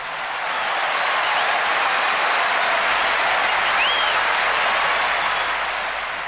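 A partisan tennis crowd applauds during the Borg versus McEnroe match, a broad, even roar of clapping that swells in and holds steady throughout, with no voices standing out.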